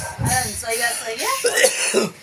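A single short cough with throat clearing, close and fairly loud, at a family celebration with people talking around it.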